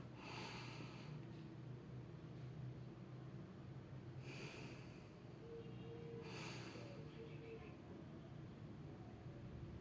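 During a yoga routine, a person breathes slowly in through the nose and out through the mouth, giving two or three soft, separate breath bursts over a faint steady background hiss.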